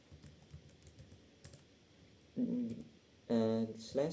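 Computer keyboard keys typed in a few short bursts, quiet and close, with faint background noise between, as a network command is entered on a Windows PC.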